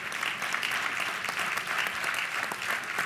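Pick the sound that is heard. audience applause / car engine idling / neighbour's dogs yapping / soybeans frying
audience applause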